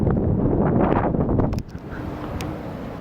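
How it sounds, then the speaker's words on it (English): Strong wind on an open clifftop ledge in Malta buffets the microphone in a loud roar, then suddenly drops to a softer, steady rush for the rest of the moment. "It's really windy because you're pretty much on a ledge of a cliff."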